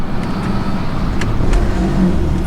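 A car engine on an insurance auto auction lot, started after sitting unused for a long time, runs close by with a steady, rough low rumble and slight revving, with no one talking.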